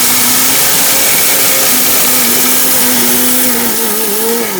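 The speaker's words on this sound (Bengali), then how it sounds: "দেখেন ব্লেন্ডার কথা বলে ভাই" A steel-bodied electric blender with its jar locked on runs at full speed, a loud, close, continuous motor whine that shifts pitch slightly as the contents spin, with no talking.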